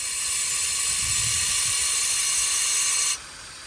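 Steady loud hiss of pressurized air escaping from a boost leak on a 1.9 TDI diesel intake, broad and continuous, with faint low rumble underneath, then abruptly dropping in level near the end.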